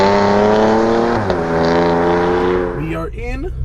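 A 2017 Porsche Macan S with a COBB Stage 1 tune pulls away in sport mode, its engine droning loud and steady through the cabin as it climbs in pitch, with a gear change midway and a sharp throttle lift near the end.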